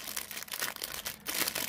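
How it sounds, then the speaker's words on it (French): Paper crinkling and rustling up close as small die-cut Halloween craft pieces are handled, a continuous dry crackle with brief louder bursts and no voices. "désolée pour le bruit du papier"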